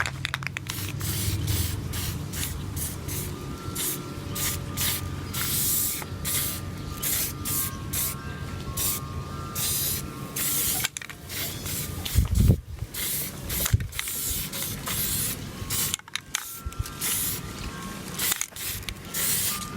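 Repeated bursts of black aerosol spray paint hissing onto bare metal of a pocket bike, close and loud, in short and longer pulses, with a few clanks and handling noises between them.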